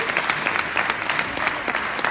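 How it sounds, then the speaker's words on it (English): An audience claps for backstage crew at a talk, steady dense applause filling the room for the whole stretch, moderately loud and without pause. "So please give a round of applause to those guys."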